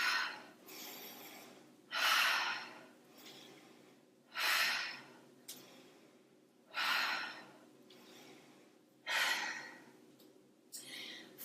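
Slow, deliberate breaths in and out during a strength-workout squat set, each loud airy exhale recurring about every two and a half seconds, with quieter inhales between.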